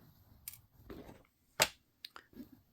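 Wire cutters snipping the excess wire off a wire wrap ring, one sharp close click standing out among a few quieter handling clicks in a quiet setting.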